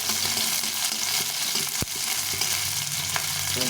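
Chopped onion and finely cut green chillies frying in a pan for a fried bottle-gourd peel dish with potato, giving a steady loud sizzle throughout with a brief clatter near the middle, no talking.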